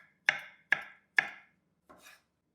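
A knife cuts through pineapple on a board in three crisp, evenly spaced chops, close and clear, followed by a softer fourth slice.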